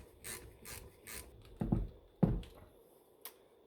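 A 7mm Allen key works at a Mercedes brake caliper pin, giving a few soft scraping rubs and then two sharp metallic clunks and a small tap, close and quiet.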